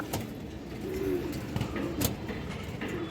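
A black-necked Deshi Giribaz pigeon gives a few faint, low coos over a constant background rumble, with occasional light knocks and no speech.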